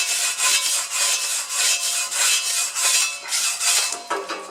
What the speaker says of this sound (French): Je mets un coup de brosse métallique.